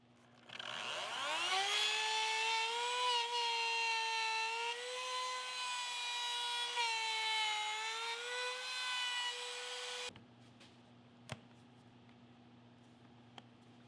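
A router bit cuts into a wooden board with a loud, steady high whine whose pitch dips and shifts as it bites, running about nine seconds before it stops abruptly, followed by quiet and a couple of faint knocks.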